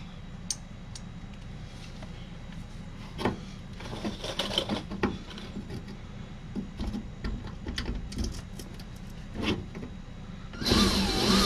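A power drill pre-drills holes while a sewer hose storage tube is fitted in place. Faint taps and clicks come first, then a short, loud whirring burst at the very end.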